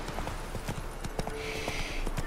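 Horse hooves clip-clop at a steady riding pace in The Witcher 3, close and clear, with a brief high whinny-like tone partway through and no talk over them.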